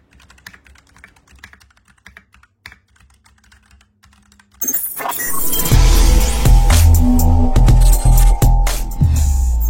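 Typing on a Klim Shift gaming keyboard, a compact customisable board: a faint patter of keys for about four seconds, then a loud, rapid, dense clatter of keystrokes, very close and with no talk.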